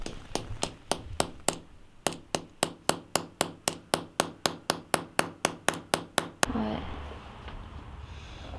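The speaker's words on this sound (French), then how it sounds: "en tapant dessus avec le marteau, ça vient le sertir en fait vraiment dessus" Hammer tapping a part of a 1962 Solex 2200 moped carburetor, about twenty sharp metallic taps in a fast steady rhythm, then stopping as low voices talk.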